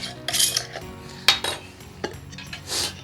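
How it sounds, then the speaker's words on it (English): Cubed radish drops into a pickling jar with a few sharp clinks and rattles against glass and utensils, close and fairly quiet, and no one speaks. "we're going to put them in the pickling jar."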